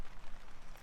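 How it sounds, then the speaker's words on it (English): Steady rain drums on a tent near Harrop Tarn in the Lake District, a dense, close hiss of many drops with no voices. "I don't know if you can hear the rain on the tent."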